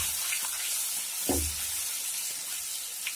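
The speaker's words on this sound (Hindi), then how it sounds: "और हम डालेंगे इसमें ये अदरक और लहसुन का पेस्ट, और इसको चलाएंगे, गैस ऑन कर देंगे थोड़ी" Ginger garlic paste sizzles steadily in a pan over a gas flame, with one soft scraping stir cutting through the continuous close frying hiss.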